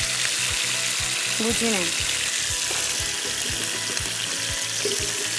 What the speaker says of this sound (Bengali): এটা আমি হোল চিকেন রোস্ট করব, আগে একটু ফ্রাই করে নিচ্ছি